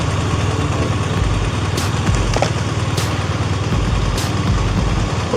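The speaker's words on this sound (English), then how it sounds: "You just knock the engine off for us." A car engine idles at a steady low rumble close by, running continuously with a few faint clicks over the top and no talking.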